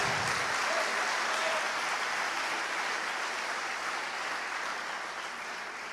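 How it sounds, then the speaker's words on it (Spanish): A church congregation claps together in a broad, sustained wash of applause that starts at full strength and tapers slightly toward the end, with no voices standing out. "Denle un aplauso al Señor Jesucristo."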